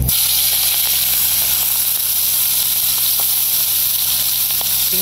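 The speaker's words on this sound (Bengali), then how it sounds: "এটা থেকে তেল চাটতেছে" Freshwater giant prawns fry in hot oil, giving a loud, continuous sizzling hiss with scattered sharp pops and crackles of spattering oil throughout.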